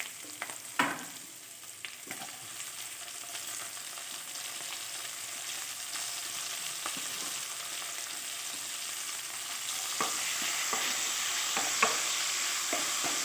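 Chopped tomato fries with a potato spice mix in oil for alur dom, an even, soft sizzle with intermittent stirring clinks and scrapes that grows slightly louder toward the end.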